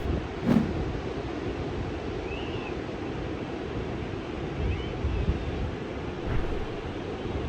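Atlantic Ocean surf washing onto a Rhode Island beach, a steady broad roar of breaking waves with wind buffeting the microphone and a few brief faint sounds over the top.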